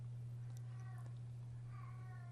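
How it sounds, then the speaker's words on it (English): A pet cat cries indoors somewhere in a room, two or three plaintive meows rising and falling, faint and distant over a steady low electrical hum. "You can hear my kitty in the background crying."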